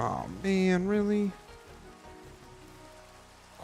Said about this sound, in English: Of course it has to start raining.